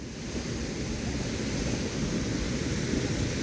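Fukuroda Falls, a large waterfall in Japan in November, roars as a steady, dense wash of falling water close by, unbroken and loud throughout with no voices.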